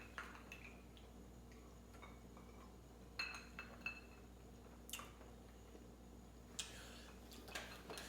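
Glasses clink together in a toast at a rum tasting, a few sharp, bright taps spread through a quiet room, with light handling noises between them.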